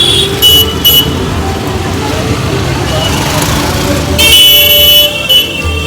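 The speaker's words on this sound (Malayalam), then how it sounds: "ഭയങ്കര ബിസി സ്ട്രീറ്റാണ്. ഫുള്ള് ഓണടിയും കാര്യങ്ങളൊക്കെ ആയിട്ട് ഒരു രക്ഷയില്ല" A very busy city street near the Red Fort, with loud, constant traffic noise and repeated car and rickshaw horns honking close by. Several long honks stand out above the roar.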